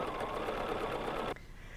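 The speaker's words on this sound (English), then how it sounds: "the needle waits and starts stitching when I start moving" A BERNINA sewing machine stitches free-motion quilting on a placemat, a steady fast needle whir that runs loud and close, then cuts off abruptly near the end.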